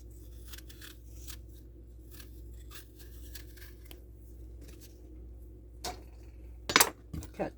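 Knife slicing through an apple on a cutting board, quiet scraping cuts followed by a few sharp, close chops and clacks near the end, with a faint background hum.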